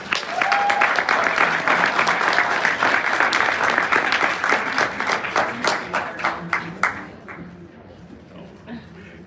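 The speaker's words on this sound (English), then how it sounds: "please give them all a round of applause" A convention audience gives a sustained round of applause, dense clapping that holds steady, then thins to a few scattered claps before fading out.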